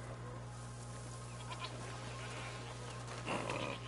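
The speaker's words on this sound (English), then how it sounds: "What's over there? Goats!" Goats bleat faintly in A Plague Tale: Requiem, a few short calls sitting low under a steady background hum, distant and quiet.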